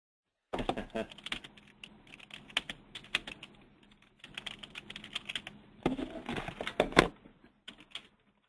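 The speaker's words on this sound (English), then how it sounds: "I'm just typing these up now" Typing on a computer keyboard during a webinar, with bursts of rapid close key clicks separated by short pauses and quieter stretches, fairly soft overall.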